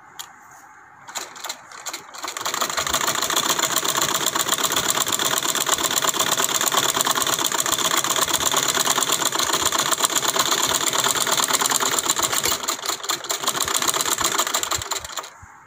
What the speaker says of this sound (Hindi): अब दूसरे बाजू को बाजुओं के ऊपर 2 सिलाइयाँ लगाऊंगी।